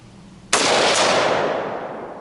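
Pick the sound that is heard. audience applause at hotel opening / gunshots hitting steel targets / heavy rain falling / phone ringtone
gunshots hitting steel targets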